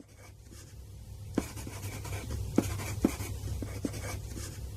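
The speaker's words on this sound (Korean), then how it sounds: "나는 생각을 종이에 적으며 정리하는 습관이 있다." Pen scratching steadily across a small paper memo pad, faint and close, with a few sharper taps and strokes standing out against a low background hum.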